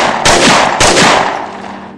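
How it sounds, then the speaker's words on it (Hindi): A reenacted volley of gunfire from massed ranks of riflemen, with two sharp, loud bursts about half a second apart, each trailing off into a rolling echo. "गोलियां बरसाई गई।"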